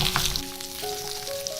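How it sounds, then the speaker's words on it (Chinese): Ginger and garlic sizzle in a little oil in a clay pot, a brief close crackling fry with faint tonal ringing and no speech. "把配料放下来炒香"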